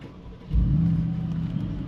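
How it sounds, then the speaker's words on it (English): Mercedes G-Wagon SUV in sport mode, its engine swelling into a low rumbling rev after a short quiet start, then holding a steady drone as it pulls away. "Let's go ahead and give the car some power, set it to the sport mode,"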